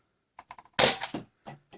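A Rhinoceros BJ.02 clone blaster fires through a chronograph, one sharp close pop with a quick decay, set among a few light mechanical clicks.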